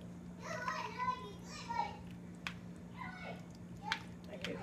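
A toddler eating plain homemade noodles babbles in a few short, faint bursts set back in the room, over a steady low hum and some light clicks.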